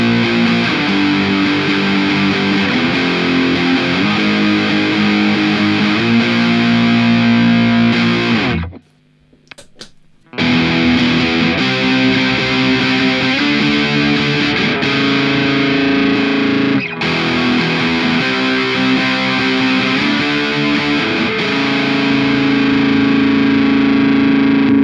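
Loud, heavily distorted electric guitar through a Boss MD-2 distortion pedal chugs and sustains chords continuously, with a short break about a third of the way through before playing resumes.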